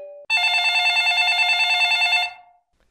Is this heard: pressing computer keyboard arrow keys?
no